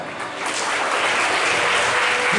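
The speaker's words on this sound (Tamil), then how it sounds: "பிள்ளைகள்லாம் இடம்பெற்று கைத்தட்டு பார்ப்போம்." Children clap their hands together at a school equipment handout in Trincomalee, a steady, dense round of applause from a group that swells slightly after the first half-second and holds at a constant level.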